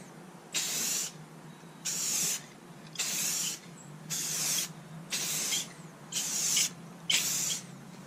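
A spray gun lays clear coat on a 2002 BMW 540i E39 in repeated hissing passes, seven bursts of about half a second each with short pauses between, close and steady with no talk.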